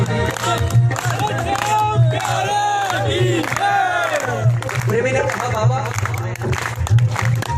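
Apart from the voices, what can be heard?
audience clapping at a bhajan performance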